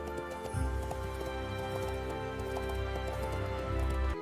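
Horse hooves clip-clop in a steady, even rhythm beneath a sustained tonal musical backdrop, moderately loud and continuous throughout.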